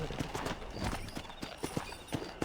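Horse hooves clip-clop in a steady, uneven trot in the Red Dead Redemption western game, the hoofbeats fairly close and moderately loud against a light ambient background, with no one talking.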